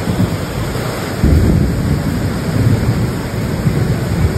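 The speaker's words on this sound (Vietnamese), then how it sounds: "chẳng những mưa lớn không đâu mà trời còn sấm sét nghe muốn sợ luôn á" Heavy rain pours down around a house with overflowing gutters, a loud, dense roar with deep rumbling thunder rolling underneath and swelling partway through.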